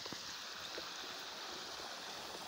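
A creek swollen from the first round of rains rushes steadily nearby, a constant broadband wash of flowing water with no pauses and no voices.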